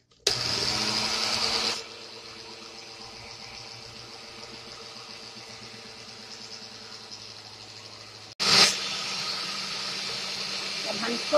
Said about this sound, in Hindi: तो चलिए अब हम इसको करते हैं ब्लेंड